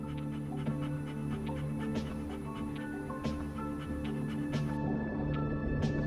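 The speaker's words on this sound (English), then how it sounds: "The dog starts to pant and lies down to help her pushing." A dog in labour pants rapidly and rhythmically, faint quick breaths repeating over a low steady hum, close by with no talk.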